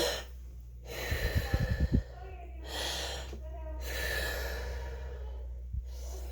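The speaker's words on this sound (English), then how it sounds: "you know how you take your deep breaths" A person takes deep breaths as a breathing exercise: long, airy inhales and exhales repeat in slow cycles, close and fairly loud, with a short burst of throaty, broken breath sounds near the start and no talking.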